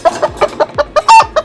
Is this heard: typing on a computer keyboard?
no